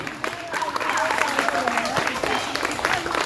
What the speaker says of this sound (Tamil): எல்லாம் கைத்தட்டி அவங்களுக்கு ஒரு நன்றி சொல்லலாம்